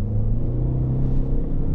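Toyota Noah hybrid minivan with front-wheel-drive THS II system pulling hard from inside the cabin, a dense low rumble and steady drone of engine and road noise, close and continuous.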